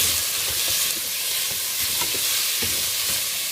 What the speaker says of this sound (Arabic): اضيف البصل والتوابل اللي هي عباره عن قرنفل وهيل وورق غار. استمر بالتشويح والتقليب